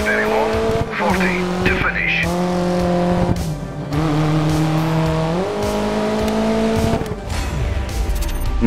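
A rally car in Dirt 3 drives hard along a stage. The engine note revs up and down through gear changes and tires squeal now and then, with a voice talking over it at intervals.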